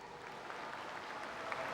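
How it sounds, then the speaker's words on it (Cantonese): An audience applauds at an Olympic champions' diving exhibition in Hong Kong, a steady even patter of many hands clapping, moderately distant and continuous. "俾啲掌聲大家自己"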